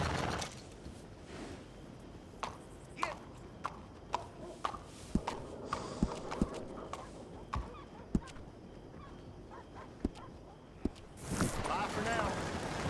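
Horse hooves clip-clopping at a walk in a Red Dead Redemption western town, a steady series of sharp knocks close by, with game voices talking over the scene.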